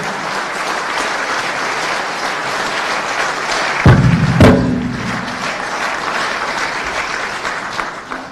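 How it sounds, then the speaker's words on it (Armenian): Loud applause from a crowd at a political campaign event in Vagharshapat, Armenia, a dense sustained clapping that fills the whole stretch, with a couple of brief thumps near the middle. "ես առաջարկում եմ բարձր ծափահարություններով մի հատ աջակցենք մեր հայ առաքելական եկեղեցուն"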